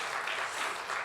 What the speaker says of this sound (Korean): 우리 감사하다고 우리 박수하겠습니다